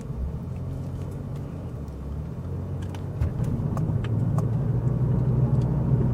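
A 2JZ-powered Toyota Aristo drives a steering and handling course, its engine a steady close rumble that grows louder and busier about halfway through as it works harder, with no talking over it.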